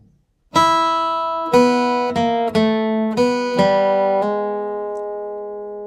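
A twangy guitar plays a country blues lick in E, several plucked notes in quick succession, each ringing with bright harmonics, the last note sustaining and fading slowly.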